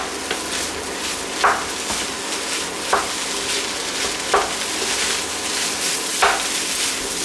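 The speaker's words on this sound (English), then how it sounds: "we're going to keep on stir frying the rice with all these ingredients over here" Rice stir-fried with chicken and other ingredients in a wok over the highest heat gives a constant loud sizzle, with a scrape of the spatula roughly every one and a half seconds.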